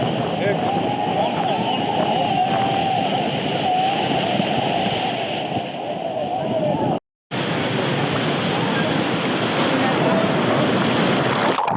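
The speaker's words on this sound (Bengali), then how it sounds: "ওই যে ভাই ঢেউ দেখেন ঢেউ ঢেউ যে পরিমাণ ঢেউ আসতেছে মনস্টার ঢেউ" Large ocean waves crash at Cox's Bazar beach in a steady, roaring wash of surf that fills the whole clip, with a brief dropout midway and voices present under the noise.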